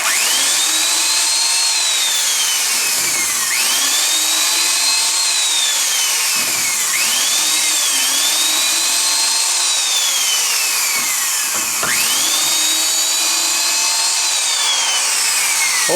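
A drill fitted with a Versamatic speed reducer backs screws out of a split 2x4: a loud, continuous whirring whine that rises in pitch, then dips and restarts with each of several screws.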